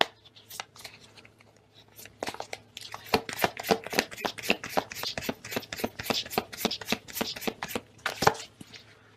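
Tarot cards being shuffled by hand produce a long run of quick, crisp papery slaps and riffles in a steady rhythm, close and fairly loud, with no voices.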